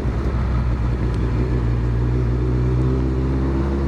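A Honda CBR1100XX Blackbird motorcycle engine drones steadily at about 2,000 rpm, a continuous rumbling hum with no acceleration, heard close up.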